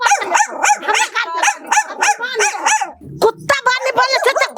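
A person imitates a barking dog in a Maithili comedy skit, loud close yaps and woofs in a rapid series with a short whine, delivered as a human vocal impression rather than a real animal.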